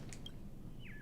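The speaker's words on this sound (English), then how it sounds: "I heard a bird around here." Bird chirps in Honkai Star Rail: a quiet chirp early on and a short descending tweet near the end, both faint against a steady low background hum.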